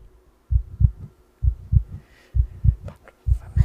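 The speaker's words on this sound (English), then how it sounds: "the heart beat on with a muffled sound" A muffled heartbeat thumps in steady double beats, four pairs evenly spaced, low and dull as in a reading of Poe's tale, with no talking over it.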